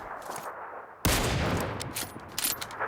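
Gunfire in PUBG Lite, a battle royale shooter: after a quiet moment a sudden loud volley erupts and keeps crackling densely, with a few sharper shots standing out near the end.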